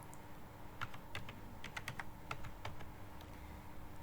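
Computer keyboard keys tapped in short irregular bursts while an entity name is typed into a Microsoft Visio ER diagram, close and fairly quiet over a steady low hum, with no talking.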